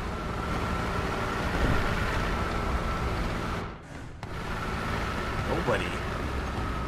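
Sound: BT-7M tank engine in War Thunder video game

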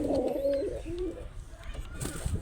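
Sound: pigeons cooing

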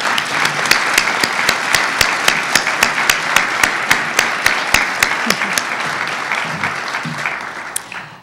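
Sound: audience applauding student artists

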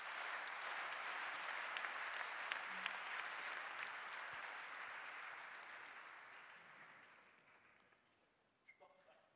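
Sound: table tennis crowd cheering and applauding

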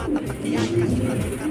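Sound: racing pigeons arriving at the loft

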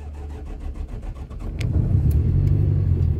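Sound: car engine starting and revving

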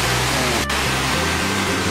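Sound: mountain waterfall

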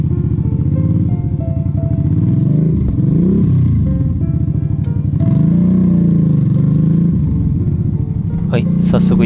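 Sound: motorcycle riding on road

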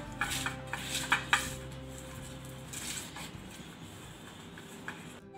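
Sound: metal cooking pot being placed for heating

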